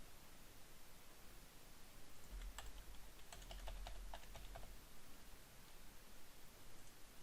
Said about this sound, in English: Just begin typing what you want and it'll pull it up.